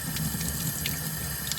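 Water runs steadily while rinsing sludge out of a gas steam boiler's sight glass in a century-old Brooklyn townhouse, a close continuous trickling splash without talk.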